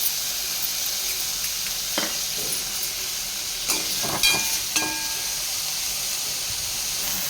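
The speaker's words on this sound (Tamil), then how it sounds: "ஒரு ஸ்பூன் எண்ணெய் ஊற்றியிருக்கேன். கத்திரிக்காய் போடுவோம்." Eggplant sautés in a spoonful of oil, a continuous hissing sizzle with occasional stirring clicks and scrapes against the pan, steady and close with no talk.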